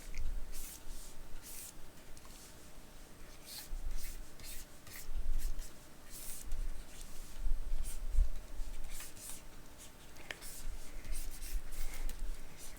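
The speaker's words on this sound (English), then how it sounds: "This is pencil work that I'm doing right now, working this out." Pencil on paper while drawing and shading fabric folds on a character sketch: close, continuous scratchy strokes and rubbing in irregular bursts, steady and unaccompanied by talk.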